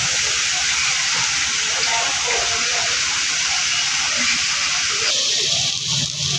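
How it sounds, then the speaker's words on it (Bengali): Garlic paste and spice masala sauté in a pan with a steady, loud hiss and sizzle that runs unbroken throughout. "এবার রসুনের পেস্টটাকে দিয়ে দিচ্ছি। দিয়ে মশলাটাকে ভালো করে কষিয়ে নিচ্ছি।"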